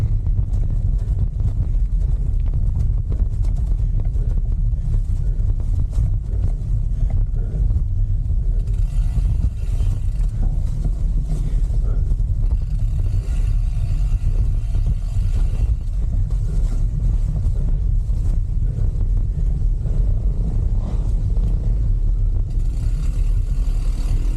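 Steady loud engine drone with wind buffeting, rising and swelling as enduro motorcycles pass nearby on a loop road in Rodriguez, Rizal, continuous throughout with no talking.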